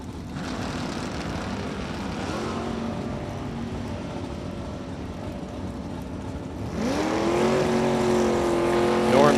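Two drag race cars, a 3rd gen Camaro and a Mustang, roar at the line with a sustained engine drone that swells sharply louder partway through as they launch, loud and continuous with no talk.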